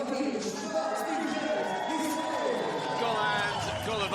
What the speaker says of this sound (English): Israel, wait for the cheer.